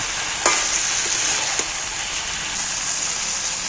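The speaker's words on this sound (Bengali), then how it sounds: "এইবার আমি নুনটাকে ভালো করে মিক্স করে নিচ্ছি" Salt being stirred into chicken curry in a pan, a steady loud frying sizzle with a few sharp spoon scrapes and taps near the start, no voices.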